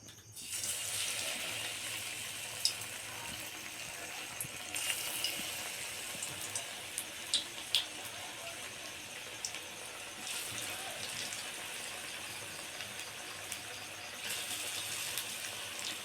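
Lentil fritters (dal bora) fry in hot white oil in a wok, a steady close sizzle with occasional crackles and pops that runs continuously after a short quiet start.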